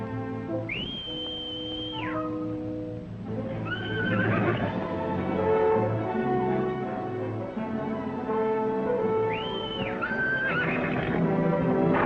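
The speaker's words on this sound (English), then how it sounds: "I got Benton's horse." A horse neighs loudly twice in a 1941 western, shrill whinnies standing out over an orchestral score and hoofbeats.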